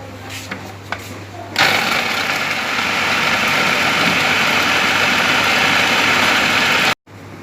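An electric food chopper whirs into a loud, steady motor drone as it chops green chillies for mooli paratha, running several seconds before cutting off abruptly. Soft handling clicks come first, and a voice is heard faintly.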